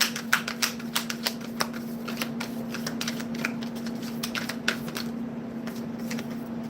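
Tarot cards being shuffled by hand, a run of quick crisp riffles and flicks in an irregular rhythm, close and fairly quiet over a steady low hum.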